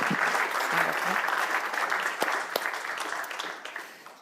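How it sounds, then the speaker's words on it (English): At an innovation day event, the crowd gives the judges a round of applause as they come up. Close, dense clapping runs for about four seconds and tapers off with a few louder individual claps. "Round of applause for the judges,"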